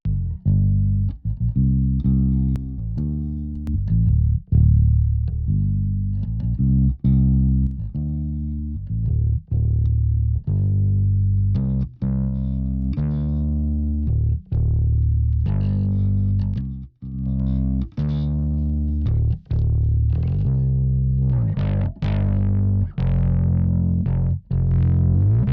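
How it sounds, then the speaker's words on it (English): Heavily distorted, saturated music from a multi-band distortion plugin plays continuously at a loud level, with gritty harmonic tones and short pauses between phrases. "See it as a multi-band distortion unit, right? Different types of distortion, different types of saturation"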